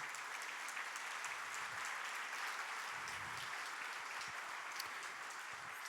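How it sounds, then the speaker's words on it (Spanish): A church congregation applauds steadily and fairly loudly throughout, a dense continuous wash of clapping with no speech over it. "Un aplauso de gloria al Señor."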